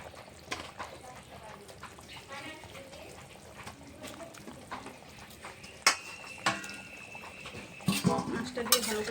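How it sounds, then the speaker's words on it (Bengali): Pieces of fried fish going into a bubbling curry of onion, garlic and pointed gourd, with a soft liquid simmer, a few clinks of a utensil against the pot and stirring, while a voice talks quietly. "তরকারিটা ভালোভাবে ফুটে গেছে। ভেজে রাখা সম্পূর্ণ মাছ দিয়ে দেবো।"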